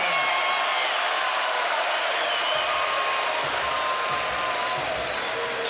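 Dense, steady roar of an arena crowd at a Kentucky vs. Clemson men's college basketball game, loud and continuous for the whole stretch with scattered shouts and a few sharp squeaks over the din.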